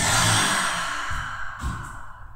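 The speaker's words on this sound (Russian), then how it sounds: "Выдох через рот, опускаемся вниз." During a yoga breathing sequence, one long, breathy exhale through the mouth starts strong and close, then slowly tapers off.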